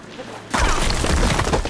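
Rushing water surges loudly after a valve is switched in Horizon Forbidden West, starting abruptly after a quieter moment and continuing as a dense, steady, close roar.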